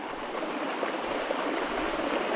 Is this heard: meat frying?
no